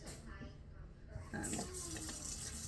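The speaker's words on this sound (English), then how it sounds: "I'm going to fill up my sink with warm water" Warm water runs from a tap into a kitchen sink, a soft steady rush that grows louder and brighter as the flow opens up partway through, with no voice over it.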